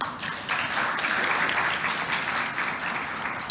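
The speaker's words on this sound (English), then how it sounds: "I invite you to just give yourself an applause." A roomful of women at a chamber of commerce power summit applaud themselves, producing steady, dense clapping that holds evenly throughout with a single sharp clap at the close.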